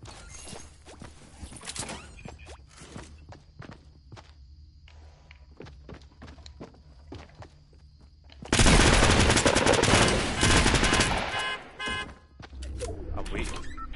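Rapid gunfire from the video game Fortnite: scattered single shots and footsteps, then a dense, loud burst of sustained firing about two-thirds of the way through, with brief bursts after it.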